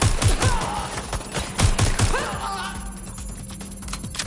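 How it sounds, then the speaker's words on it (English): Gunfire in the video game Watch Dogs Legion, several loud shots in quick bursts amid in-game action and screeching sounds, fading into quieter background noise. "Taking fire! It's shooting!"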